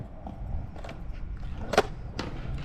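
A skateboard rolls up to a street curb and pops into a nosestall, with soft wheel rumble, a sharp clack of the board hitting the curb, then another scrape and knock.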